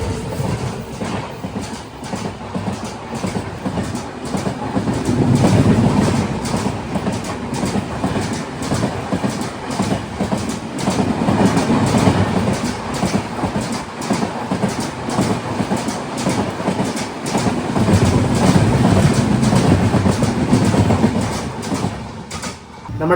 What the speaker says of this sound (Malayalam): നാന്ദേദിൽ നിന്ന് വിശാഖപട്ടണം പോകുന്നൊരു സൂപ്പർ ഫാസ്റ്റ് വരുന്നുണ്ട്